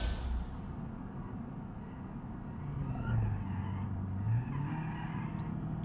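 Audi engine in the BeamNG.Drive driving game, a low steady drone with some tyre noise, rising a little and holding at moderate loudness.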